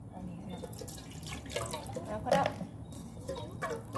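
A little water is poured into a pot while cooking a northeastern Thai steamed chicken dish, a faint splashing and trickling heard quietly under a voice.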